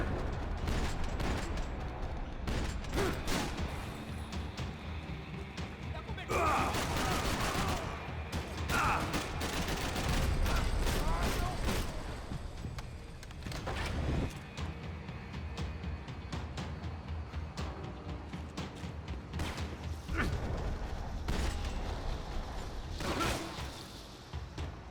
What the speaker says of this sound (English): And now it's going to take lots of shots.